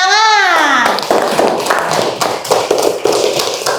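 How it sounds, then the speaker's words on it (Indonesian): A small classroom group claps in a short burst of scattered, close hand claps right after a presentation on food chains, fading within a few seconds. "Yuk, tepuk tangan."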